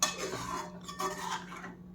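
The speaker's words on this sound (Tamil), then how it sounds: "இப்போ வேக வச்ச துவரம்பருப்பு அதோட சேர்த்து தண்ணி அதையும் சேர்த்து ஊற்றிடுங்க" Cooked toor dal and its water pour steadily into a pot with a soft, continuous splash, mixed with light clinks of a utensil against metal.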